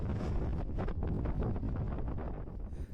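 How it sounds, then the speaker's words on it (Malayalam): Wind blowing across a hilltop viewpoint in the Western Ghats near windmills, a steady rough rumble buffeting the microphone, loud and close throughout with no voices. "എനിക്ക് തോന്നുന്നു ഒരു 5 to 10 കിലോമീറ്റേഴ്സ് പെർ അവറിൽ ഇവിടെ കാറ്റ് വീശുന്നുണ്ട്."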